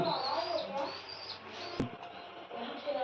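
Soft, low pigeon coos murmur nearby under faint background voices, with a single sharp knock in the middle.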